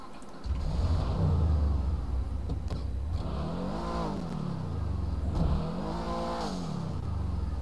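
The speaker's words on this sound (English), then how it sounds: "the turbo blow off sounds awesome." Car engine in GTA San Andreas at night by the shore, revving and accelerating with rising and falling pitch sweeps and a steady rumble, moderately loud throughout, with no audible turbo blow-off hiss standing out.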